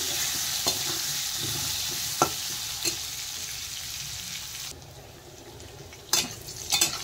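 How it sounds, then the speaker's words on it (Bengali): Cut potatoes stir-fried in a pan while cooking a Bengali fish curry with potol: a steady sizzle with scraping stirs and a few sharp clinks of a utensil against the pan, no talking. "আলু দিয়ে দেওয়ার পরে আরেকটু নেড়ে চেড়ে আলু ভেজে নেব।"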